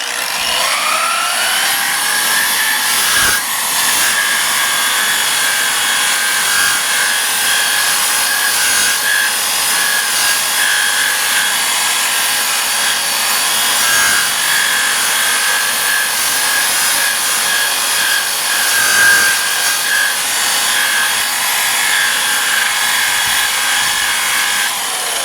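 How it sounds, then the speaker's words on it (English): Steady, continuous rubbing of a burnishing tool against wood during sanding and priming prep, a close, even scraping texture running throughout with small irregular catches and no voices. "don't know if I should use the burnish tool up top or not"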